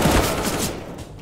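A dense, loud burst of rapid gunfire from a first-person shooter match in CS:GO, continuous and harsh, with no gaps between shots.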